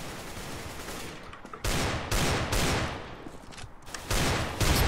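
Automatic gunfire from an online shooter game with AK and M4 rifles rattles off in loud, dense bursts, several rapid volleys in a row with brief pauses between them and no talk.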